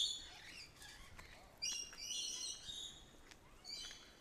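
Several birds chirp and call in short, high bursts against a soft outdoor hiss in the English countryside, fairly distant and quiet, with no voices.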